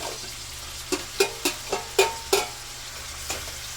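Shredded chicken frying with garlic and onion in a pan, a steady soft sizzle broken by a series of sharp clacks and scrapes from stirring, about seven in quick succession, close and moderately loud.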